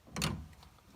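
A roller coaster restraint with a mechanical ratchet system unlocks in one short, muffled mechanical release. It is quiet and brief, with a faint rattle trailing off afterward.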